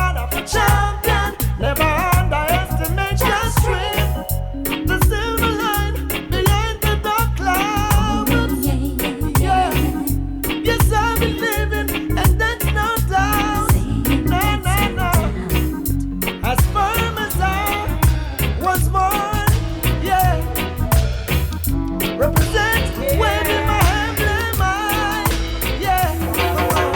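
Full-band song plays loud and continuous, with steady beat, bass, layered instruments and a vocal line running throughout.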